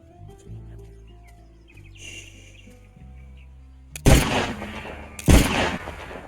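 Two loud, sharp gunshots in the Wild West video game Cowboy Life Simulator, fired a second apart out in the open over a quiet game ambience with faint bird calls.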